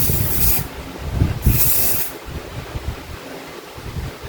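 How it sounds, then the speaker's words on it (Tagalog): Two short bursts of aerosol hairspray hiss onto hair close to the microphone, each about half a second to a second long, over a steady background rumble. "So, mag-i-spray na ako."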